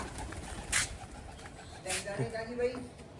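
Soft pigeon coos rise a few times under nearby talk and rustling, with a couple of brief sharper flutters.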